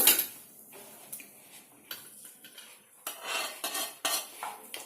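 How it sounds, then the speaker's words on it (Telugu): A metal spoon scrapes and clinks against a cooking pan while skimming excess oil from ginger chicken gravy, in short irregular bursts of close scraping separated by quiet pauses. "ఇంత నూనె అవసరం లేదు వేసేవాళ్ళు వేస్తారు కానీ నేనైతే తక్కువ వేస్తాను ఈ కింద ఇది ఉన్నా పర్వాలేదు కొంచెం నూనె తీసేస్తాను నేను"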